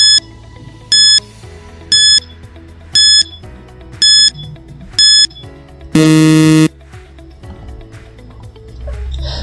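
A countdown timer sounds at the end of a classroom quiz activity, with a repeating series of loud electronic beeps at a steady rhythm, then one longer buzzing blast, over a quiet music bed.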